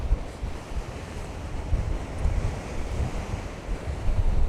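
Sea waves breaking at an Adriatic beach near Pula, Croatia, a loud continuous surf roar with low rumbling surges and heavy wind buffeting the microphone, swelling toward the end, no voices present.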